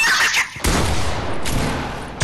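A shotgun fires in a multiplayer video game with a loud, close blast, and a heavy rumbling report follows it.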